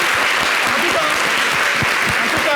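Studio audience on a television talk show claps steadily, a full, continuous wash of applause that stays loud and even throughout.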